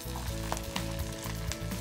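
About 150 grams of whole garlic sizzle and crackle in hot oil in a pan as a masala is cooked. The frying hiss is continuous and close, broken by brief spatters and stirring, with no voices.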